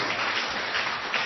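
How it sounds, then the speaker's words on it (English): An audience at a talk on the Bhagavad Gita applauds its volunteers, a short, dense burst of many hands clapping that runs evenly through the brief moment. "Big round of applause for all our volunteers."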